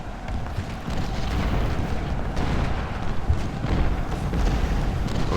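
Artillery fire in the Ultimate General: Civil War game at the Battle of Shiloh: a steady, dense rumble of booming cannon blasts with scattered bursts throughout.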